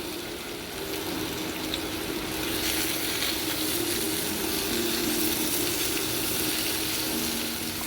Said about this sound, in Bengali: ঢ্যাঁড়সগুলো আমি দিয়ে দিলাম। ঢ্যাঁড়সটা দিয়েও আমি ভাজবো।